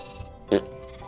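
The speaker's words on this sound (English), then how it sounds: "that's my sheep farm" A Minecraft sheep on a survival-world sheep farm gives a single short bleat over a faint game-ambience hum.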